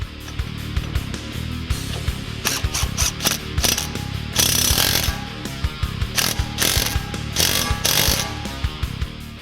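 A ratchet tightens a bolt while drag shocks are installed on a 2005-2014 Ford Mustang, giving dense, rapid, close mechanical clicking in repeated bursts with brief pauses and no talk.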